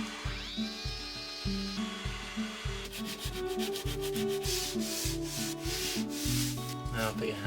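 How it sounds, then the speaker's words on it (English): A power sander whirs against an oak worktop, grinding steadily with a rhythmic pulsing hum over several seconds. "we're sanding this one because I had a bit of a dent there to get out"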